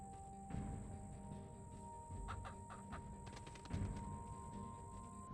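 Chickens cluck on a farm in the video game Pacify, a few short clucks over a steady synthetic hum with a high constant tone.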